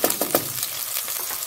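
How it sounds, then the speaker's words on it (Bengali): Sliced bitter gourd frying in hot oil in a home kitchen, a close, steady crackling sizzle with a few louder pops and stirring at the start, no voices. "উচ্ছেটা একটু ভাজা হবে"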